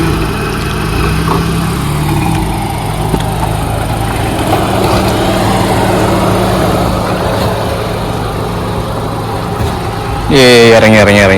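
A car engine runs steadily at the start of a road trip to Kuttikkanam, a continuous mid-low rumble heard up close with voices over it, ending in a brief tonal sound.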